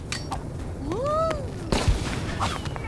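A sniper rifle fires in the Zooba battle game, one sharp loud shot with a brief boom amid busy game effects, including a rising whistling tone just before it.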